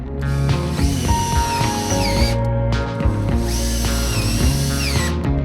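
A loud electric drill whirs in two long bursts, pitch rising and dipping under load as it drives screws into wood in a van build, with a short pause between.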